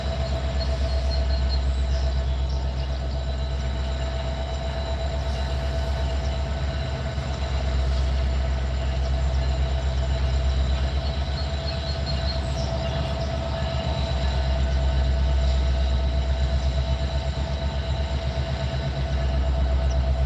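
A Metra commuter train passes close by with a steady, loud rumble of wheels on rail, a low-end roar and faint wheel squeal, continuous for about twenty seconds with no voices.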